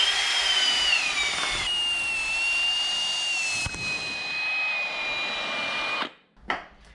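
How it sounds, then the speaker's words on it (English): Wire brush spun on a drill cleaning the inside of a 1965 Toyota F135 cylinder head, a steady high-pitched whirring scrape with a gliding whine, running continuously for about six seconds before stopping, followed by a couple of short bursts. "just with the wire brush and the drill, we're just working on the inside of here"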